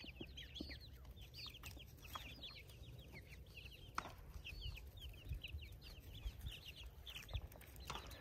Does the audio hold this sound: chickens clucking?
yes